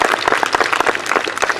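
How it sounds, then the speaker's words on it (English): A graduation ceremony audience at Bradford High applauds the students, a dense, steady wash of many hands clapping from a large crowd, loud and continuous for the whole stretch. "Round of applause for students as well."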